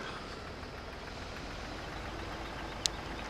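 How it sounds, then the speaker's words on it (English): In a farming video game a small tractor hauls a huge trailer, its engine a steady, moderate low drone with an even idling texture and a single sharp click near the end, no speech. "this little tractor pulling this huge trailer."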